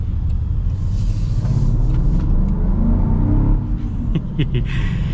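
Supercharged V8 of a 2025 Land Rover Defender P500 pulling hard under acceleration, a loud steady low rumble and rising drone recorded close from inside the vehicle.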